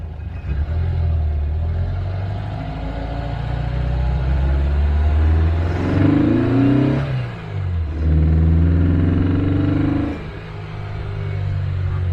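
A 1958 Tonella car's engine drones low and steady while driving, rising and falling with revs and gear changes, including a strong surge midway before settling back to a rumbling cruise, with no talking.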